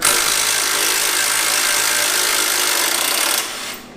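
A wrench spins a subframe bolt free during a car suspension and subframe teardown, giving a loud, steady, close rattling buzz that runs for over three seconds before cutting off abruptly, with no talk.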